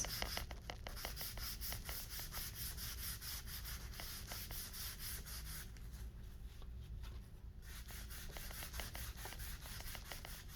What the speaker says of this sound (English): just smear it with your wax